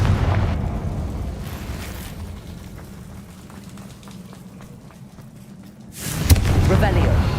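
A Confringo blast spell bursts in Hogwarts Legacy, a broad rumbling explosion swelling near the end over a steady bed of game ambience and noise.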